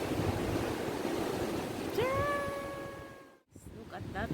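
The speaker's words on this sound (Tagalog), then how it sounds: "Grabe guys, ang lakas ng hangin." Strong wind buffets the microphone in a continuous loud rushing roar ahead of heavy rain, briefly broken by a short meow-like cry and a momentary drop before the gusts return.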